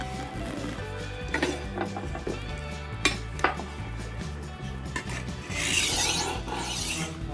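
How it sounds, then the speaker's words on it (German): A kitchen knife is honed on a Horl roll sharpener, giving a steady, raspy grinding rub with a few sharper scraping strokes, close but fairly quiet. "ich muss jetzt noch Messer schleifen"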